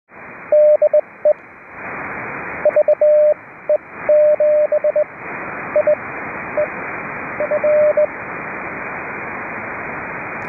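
Morse code CW tones beep in short bursts of dots and dashes over steady radio static and hiss on an amateur radio public service net on 3729 kHz, keyed intermittently for about ten seconds.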